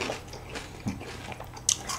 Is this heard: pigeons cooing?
no